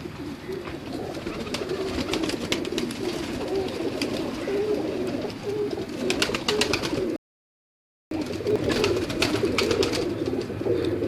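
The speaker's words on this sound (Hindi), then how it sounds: "ये कबूतर इन्होंने उड़ा के रोके हुए हैं सारे कबूतर" Many pigeons coo in a dense, overlapping murmur with wing flutters, close and steady, briefly cut to silence before resuming.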